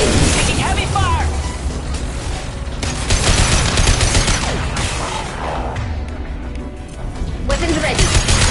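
Heavy sustained gunfire in the Mass Effect 2 video game: dense, loud rapid shots and booms layered over battle noise, with a voice calling out amid the shooting.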